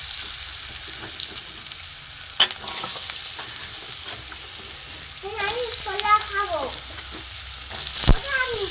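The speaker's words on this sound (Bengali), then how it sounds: "এখানে আলুটা আমি ভেজে নেবো আলুটা ভাজা হচ্ছে" Potato pieces fry in hot oil with cumin, dried chili and bay leaf, making a steady close sizzle broken by a couple of sharp utensil knocks, while a cat meows briefly in the background.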